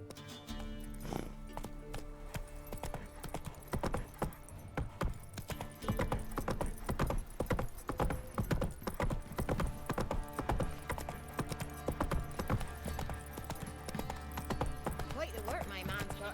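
A horse gallops in The Witcher 3, with rapid rhythmic hoofbeats running under game music and a voice for most of the stretch.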